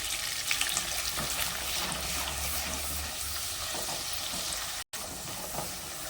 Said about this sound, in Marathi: मसाला आहे ना चांगला असा तेल सुटेपर्यंत भाजून घ्यायचा